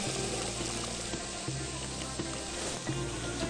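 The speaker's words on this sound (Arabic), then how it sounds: "فانا هضيف ميه" Boiling water is poured into a pot of chicken soup with vermicelli and vegetables, a steady rushing splash and hiss with faint bubbling underneath, continuous and close.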